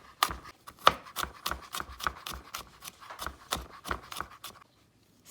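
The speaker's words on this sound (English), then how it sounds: "we're gonna go in now and chop our garlic finely" A knife chops garlic finely on a cutting board in a home kitchen, tapping quickly and steadily at close range, then pauses briefly at the end.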